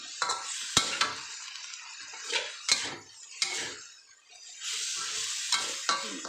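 Eggplant and small home-grown basil leaves stir-fried in hot oil in a pan, with a steady sizzle broken by several sharp scraping stirs and clinks of the utensil against the pan, close up.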